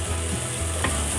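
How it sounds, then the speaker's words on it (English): Chopped garlic sizzling in a hot pan while being stirred for black bean tortilla soup, a close, steady frying hiss with faint scrapes of stirring. "Now I'm going to add chopped garlic. Stir it around so that it doesn't get burnt."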